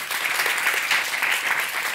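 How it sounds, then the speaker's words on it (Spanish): An audience at a live talk show with a book author applauds, sustained dense clapping from a crowd that stays even and fairly close for the whole stretch, with faint voices underneath. "Un aplauso para ellos, sí, señor."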